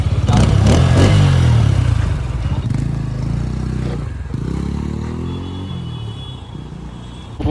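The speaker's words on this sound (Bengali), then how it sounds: "ভাইয়ের বাইক চালাচ্ছি এখন" A new Bajaj Pulsar N160 motorcycle is ridden, its engine a loud, steady drone with rumbling wind noise and a slight easing of pitch as it cruises.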